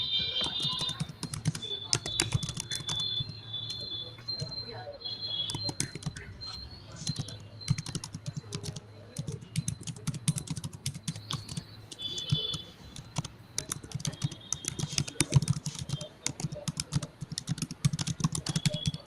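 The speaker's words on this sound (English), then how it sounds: "She's typing something." Fingers typing on a computer keyboard, a long run of quick irregular clicks and key taps at close range, continuing with brief pauses alongside a faint high electronic tone and occasional background voices.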